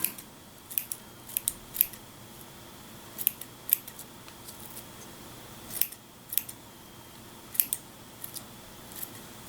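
Scissors trimming loose material off an Ork miniature, a string of sharp, close snips in small clusters separated by quiet pauses.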